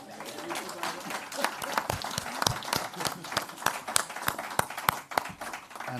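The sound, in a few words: audience applause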